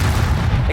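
Bombarda spell blast in the video game Hogwarts Legacy, a dense, booming low-end explosion that rumbles through the whole short moment, loud and close, with faint background game noise.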